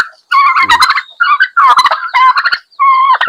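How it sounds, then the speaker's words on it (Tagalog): Several turkeys gobble loudly and close by in rapid, rattling bursts, four or five calls overlapping with brief gaps between them. "pinawala ni Joel yung mga ating mga pabo"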